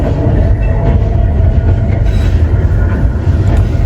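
An overnight train bound for Cox's Bazar rolls along with a loud, steady rumble and faint rhythmic clatter of wheels on rails, heard from inside a carriage.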